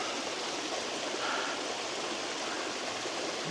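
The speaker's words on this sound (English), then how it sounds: "What a spectacular waterfall." A mountain waterfall on a high-altitude trek, a steady, even roar of rushing water heard alone with no break or change.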